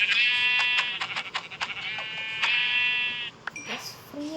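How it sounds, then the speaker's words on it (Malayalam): A Minecraft goat bleats loudly and close up in a long, wavering, pulsing cry that breaks into several quick bursts before a brief final call. "ഗൈസ് ആട്, യെസ് ഗൈസ് ആടിനെ കിട്ടി."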